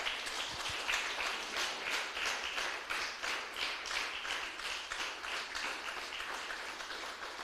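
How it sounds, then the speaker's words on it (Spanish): A church congregation applauds in a steady rhythmic clap, moderately distant, continuing evenly with no voices on top. "Dale un aplauso fuerte al Señor, aleluya."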